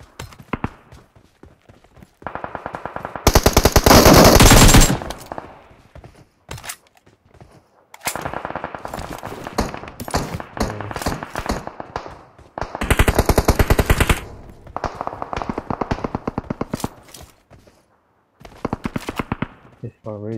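Automatic gunfire in the battle-royale game PUBG during a duo-versus-squad fight, with loud sustained machine-gun bursts of a few seconds each separated by quieter stretches of scattered shots and game noise.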